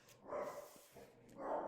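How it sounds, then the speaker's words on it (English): Dogs barking in a short burst of two or three loud, rough barks spread across the clip, without talk, set against a snowy field as a sleigh lands. "can you hear the dogs barking?"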